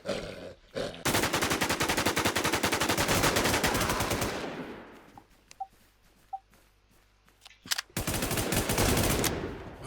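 Automatic gunfire in the shooter game Infestation rattles in long rapid bursts, loud and close, with a pause of scattered single shots before another sustained burst.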